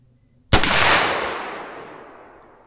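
A single loud .357 Magnum revolver shot fired from a 4-inch or 18-inch barrel over a chronograph, a sharp close blast followed by a long echoing decay that fades over about two seconds, with no talk.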